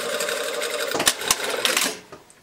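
A sewing machine runs a short burst of stitching on coat welt pocket pieces, a loud close mechanical whir with a couple of sharp clicks near the middle before it slows and stops, with no talking.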